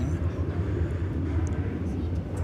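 An American Airlines Airbus A319 arrives at DFW Airport, a steady low jet rumble heard from a distance, moderately quiet and continuous with no talk over it.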